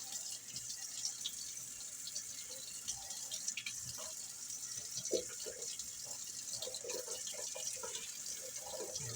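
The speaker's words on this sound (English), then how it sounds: "Some warm water." Warm water runs steadily from a kitchen tap to wet a partly frozen pie crust for a raisin apple pecan pie, a continuous hiss and splash with faint drips throughout.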